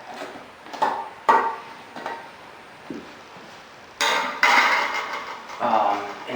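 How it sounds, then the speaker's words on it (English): Metal 5-in-1 painter's tool prying around the lid of a can of interior paint, a series of sharp metallic clicks and taps at irregular intervals, close up, growing into louder clanks and scrapes as the lid loosens. "So I have my 5-in-1 here, and we're just going to go around and pop open the lid here."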